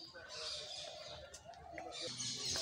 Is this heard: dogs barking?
no